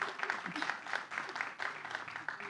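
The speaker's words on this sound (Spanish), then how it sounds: "Y aquí tenemos a Gustavo Niklander, por favor, un aplauso" Audience clapping at a digital debate event as a panelist is introduced, moderate applause with irregular bursts, somewhat distant, with faint voices mixed underneath.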